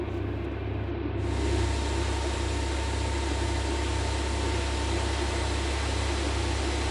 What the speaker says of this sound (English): we will start up engine number 2